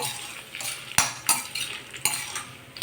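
Dried red chillies, stems removed and halved, frying in a pan for spinach onion karam, with a spoon scraping and clinking against the pan in irregular strokes over a soft sizzle.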